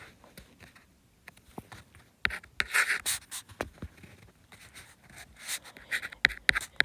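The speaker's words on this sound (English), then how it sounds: "I can write this statement as" A pen scratches and taps across paper at close range, producing irregular strokes and brief clicks that come in clusters with short pauses between them, without any voice over them.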